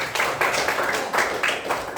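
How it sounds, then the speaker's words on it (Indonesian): Classroom of students clapping for a classmate, a short burst of several quick rhythmic claps in a room, moderately loud. "Tepuk tangan juga buat Arya."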